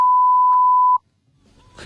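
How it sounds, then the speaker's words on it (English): A single loud, steady electronic beep cuts through a high school wrestler's entrance music at a New Jersey match, holding for about a second before dropping to near silence and faint rising noise. "He's trying to come out to the music and it just beeps every 2 seconds."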